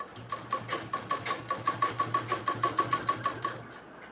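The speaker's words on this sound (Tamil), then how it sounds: "இந்த பக்கம் தைக்கும்போது இந்த துணியும் சேர்ந்துருக்கணும். தையல் துணியில் 1/4 இன்ச்சு தள்ளி தைக்கணும்." A sewing machine stitches fabric for an umbrella frock in a rapid, even run of mechanical clatters with a whirring motor hum, stopping after a few seconds; close and with no speech.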